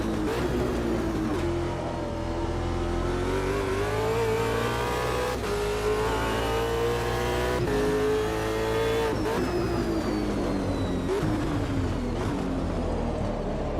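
Race car engine in a racing video game, revving loudly and continuously with steady throttle, pitch rising and dropping through gear changes and corners, alone without talk.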